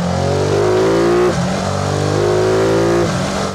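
A Ducati Multistrada V2 S engine revs hard and close, the roar rising in pitch, briefly dropping around the middle, then climbing again before cutting off at the end.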